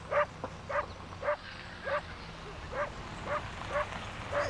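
A dog barks and yaps in a steady series of about eight short, sharp barks spaced evenly apart, moderately near and loud over faint low background rumble, with no talk.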